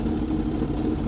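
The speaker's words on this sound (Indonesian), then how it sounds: "Nah, ini suara idolnya begini nih." Steady, rumbling idle of a Suzuki GSX-R1000 motorcycle engine close by, a continuous low throb with no revving.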